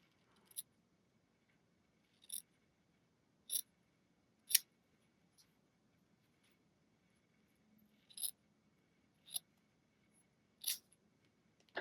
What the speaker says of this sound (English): Let's see if I can cut this as well.